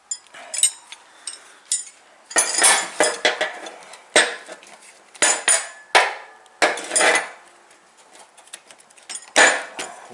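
Metal wrenches clank and rattle in bursts as someone rummages through a pile of them during a mower deck rebuild, sharp close jangles separated by short pauses.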